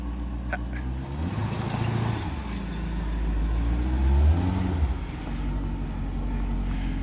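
A 1984 C4 Corvette with a new starter and distributor rumbles low and close, its engine swelling in a couple of revs as the car pulls forward, then settling back to a steady idle.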